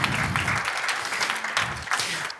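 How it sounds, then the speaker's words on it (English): Applause from an audience at a ceremony in Paris honouring women, a dense burst of clapping that holds for a couple of seconds and then thins out. "Can we applaud for the women?"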